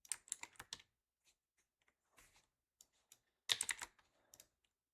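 Password keys tapped on a computer keyboard in bursts of quick clicks, with a pause in the middle and a final flurry, close and fairly quiet.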